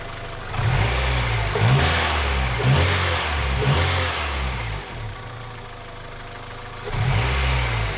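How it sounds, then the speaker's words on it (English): A B18C car engine revs repeatedly, each throttle blip giving a deep intake induction roar that rises and falls, close and loud, with idle between bursts. "Really good induction noise off the intake."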